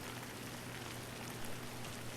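Steady rain falling in The Last of Us remake video game, a dense, even hiss of drops at low volume with no voices.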